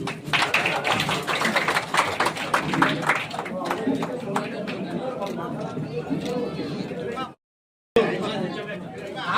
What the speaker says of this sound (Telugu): once again claps